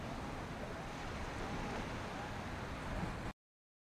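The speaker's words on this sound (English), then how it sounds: "Some nice ocean sounds there." Ocean surf roars as a steady broadband wash, with no distinct breaks between waves, and then cuts off abruptly.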